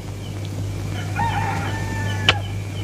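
A rooster crows once at dawn, fairly close and clear over a low steady hum, in a 1973 Indonesian film scene.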